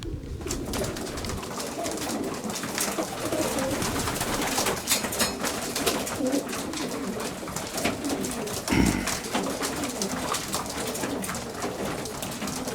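Pigeons in a loft at feeding time, with steady close cooing and bird calls over a continuous rustling background and a brief louder flutter near the end; no one speaks.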